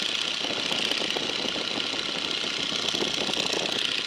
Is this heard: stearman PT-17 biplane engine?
yes